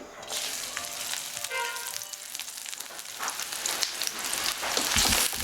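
Chopped onions drop into a little hot oil and sizzle for a Bangladeshi nihari, a close, rising crackle of frying with scattered pops and stirring scrapes, growing louder toward the end.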